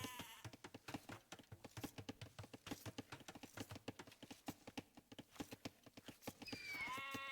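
Sheep in a real-time strategy game bleat repeatedly in quick, overlapping bursts against a rapid clatter of game sounds, faint and busy throughout.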